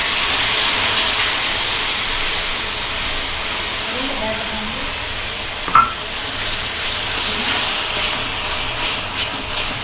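Frying onions and tomatoes give off a steady, loud sizzle and hiss in a pan, continuous throughout with a brief clatter partway through.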